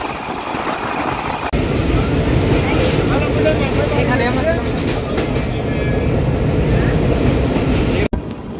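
A passenger mail train hauled by 6000-series locomotive 6014 rolls along with a loud, continuous rumble and rattling wheels, heard from on board, with a sharp knock near the end.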